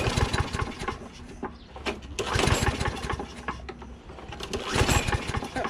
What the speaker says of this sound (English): This one actually runs, which means the carburetor is clean.